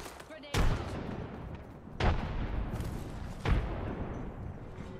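Grenade blasts in a first-person shooter game, three deep booming explosions spaced about 1.5 seconds apart, each with a sharp onset and a rumbling decay, with speech in the background.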